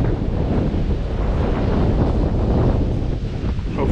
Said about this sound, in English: Hopefully this wind isn't too noisy